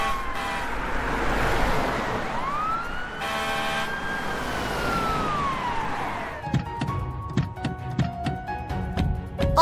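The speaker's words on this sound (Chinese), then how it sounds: "奥特曼救援队的消防车来了" A cartoon fire engine siren wails loudly as the rescue truck arrives, its tone rising and falling steadily for several seconds before giving way to a series of sharp thunks and clatters.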